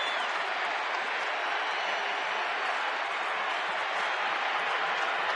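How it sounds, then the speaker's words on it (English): Baseball stadium crowd cheering wildly, a dense, steady roar of applause and yelling that fills the whole stretch without letup. "And of course this crowd now is going wild."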